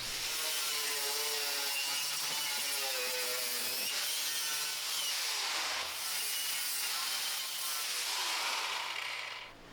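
A power tool cuts slits into the sheet-metal body panel of a Triumph Spitfire/TR4 roundtail restoration, a loud continuous grinding whine that wavers in pitch for nearly ten seconds before cutting off.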